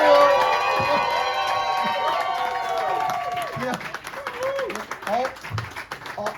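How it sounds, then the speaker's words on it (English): An audience at a Nashville poetry party claps loudly and cheers, with whoops and shouted voices rising over the applause before it breaks into scattered calls and fades. "Could we have a big round of applause? No, a cheer for Andrew."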